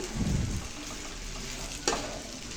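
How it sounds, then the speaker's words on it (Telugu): Stuffed eggplant frying in a pan with masala, a steady hissing sizzle with a stirring scrape near the start and a brief sharp clatter partway through, close and continuous. "ఇందులోకి ముందుగా పక్కన పెట్టిన మసాలా వేసుకోవాలి వేసుకొని కొద్దిసేపు ఫ్రై చేసుకోవాలి"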